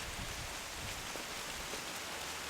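A dense, even hiss of rain falls steadily without pause, close and fairly loud.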